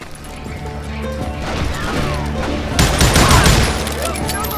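Gunfire rattles through a Western video game in a dense volley of shots and crashes, building to a louder burst partway through over a steady musical backing.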